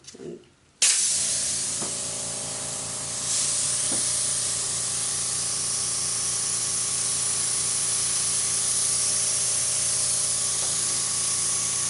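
An airbrush sprays in a steady, loud hiss that starts abruptly and then runs unbroken while a Dutchie resin piece is being finished, with faint clicks under the constant spray.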